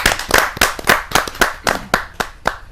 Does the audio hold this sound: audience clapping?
yes